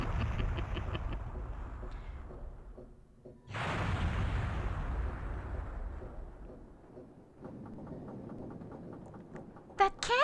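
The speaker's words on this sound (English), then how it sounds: "That cannon we ran through, it just exploded. The explosion took out that whole area." Cannon explosion in the video game Skies of Arcadia: a sudden loud blast with a long rumbling decay, set among other game effects, with a sharp crack near the end.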